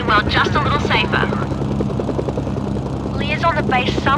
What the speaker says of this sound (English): wait until the helicopter lands